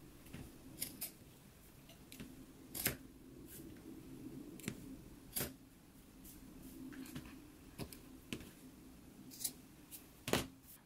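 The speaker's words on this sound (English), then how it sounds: "we can go ahead and cut it into 8 pieces that are 3 inches long" Scissors snip through a sewn fabric carrier strip, cutting it into short pieces for a pants pattern; a series of sharp, close blade clicks falls at an irregular pace over quiet room tone, with no talking.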